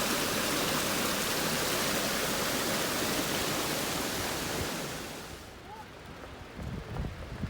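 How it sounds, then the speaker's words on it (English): A small waterfall spills into a rain-swollen river along a muddy Utah backcountry trail, a loud, steady broadband rush that fills the scene before dropping off sharply toward the end, leaving quieter outdoor noise with a few bumps. "A little waterfall, and then it joins back up with the river where it's supposed to."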